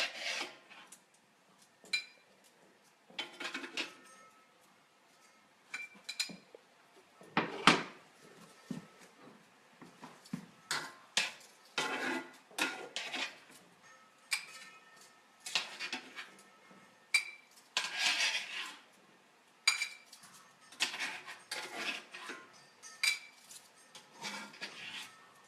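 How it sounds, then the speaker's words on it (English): Sriracha lime shrimp being scraped from a pan into a bowl, a long run of faint, close scrapes and soft clinks of utensil against metal and ceramic in uneven strokes. "just scrape our shrimp right into our bowl here"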